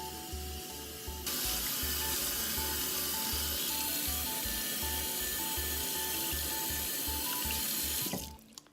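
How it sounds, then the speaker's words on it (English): Tap water runs steadily into a sink, a loud continuous splashing rush that cuts off abruptly near the end. "Probably can't hear me with running water."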